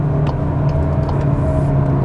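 Cupra Formentor engine on a road test, a steady low rumble with mild revving and road noise, continuous and fairly loud with no talking.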